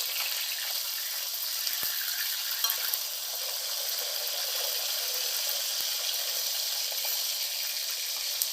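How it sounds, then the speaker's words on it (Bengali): Sole fish fries in oil in a pan on its second side, giving a steady, close, high hiss of sizzling with occasional small pops and clicks, no talk. "এবার আমি অপর পিঠটা ভেজে নিচ্ছি।"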